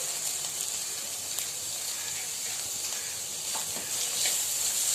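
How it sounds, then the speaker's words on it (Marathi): Onion sautéing in a little oil in a kadhai gives a steady, soft sizzling hiss throughout, close and even, with faint brief clinks and no voices. "आता मी कांदा छान लाल होतकर परतून घेते"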